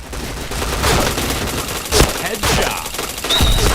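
Gunfire in the shooter game Point Blank, rapid bursts of shots and a sharp crack mid-way, loud and close with brief gaps between volleys.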